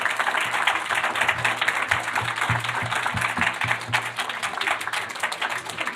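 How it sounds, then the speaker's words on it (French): Studio audience on a French talk show applauding, steady broadband clapping held at moderate level throughout, with faint low voices beneath it. "je demande qu'on l'applaudisse haut et fort"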